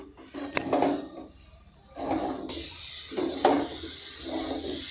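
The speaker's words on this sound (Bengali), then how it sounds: "মিডিয়াম ফ্লেমে এইভাবে আস্তে আস্তে নাড়তে হবে এবং ধীরে ধীরে আপনি দেখতে পাবেন চিনির দানাগুলো গলে যাচ্ছে।" Sugar and grated coconut stirred in a pan over a medium flame for coconut sweets, with scraping and clinking of a utensil against the metal pan in short bursts over a soft hiss.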